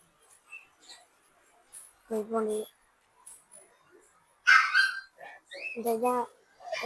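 Puppies, including Pomeranians, give small, high yips and barks a few times, scattered between quiet pauses and soft voices nearby.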